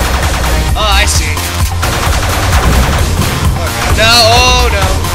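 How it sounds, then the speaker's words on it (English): Bursts of video game gunfire crackle amid busy, loud game music and effects, with a voice talking over the shooting. "He's shooting."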